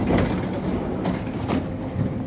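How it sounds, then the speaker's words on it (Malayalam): A train pulls in at a station, its heavy low rumble and periodic wheel clatter rolling steadily nearby and filling the moment without any voices. "ട്രെയിൻ വന്നു, ഇനി വരണം തന്നെ ട്രെയിൻ"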